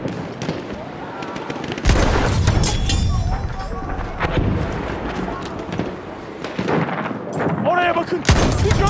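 Automatic machine gun fire crackles in sustained bursts during Battlefield 1 gameplay, loud and dense amid battlefield noise, with a couple of sharp heavier blasts and faint voices in the mix.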